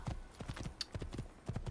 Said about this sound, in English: And there's a horsey